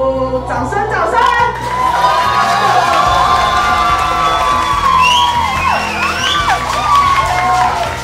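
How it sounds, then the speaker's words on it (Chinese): A large audience cheers, whoops and shouts loudly and continuously at a public marriage proposal, a dense crowd roar with children's high shouts rising above it. "掌声，掌声"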